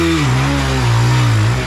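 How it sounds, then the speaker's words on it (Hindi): A motorcycle engine revs hard and loud at close range during a burnout, its pitch sagging and rising as the throttle is held open. "दोबारा बर्नआउट मारने की कोशिश कर रहे हैं"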